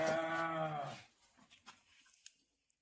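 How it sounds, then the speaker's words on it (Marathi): A cow moos once, close and fairly loud, a drawn-out low call lasting about a second, followed by faint scattered knocks and rustles in a quiet rural setting. "हे बघा ही गाय"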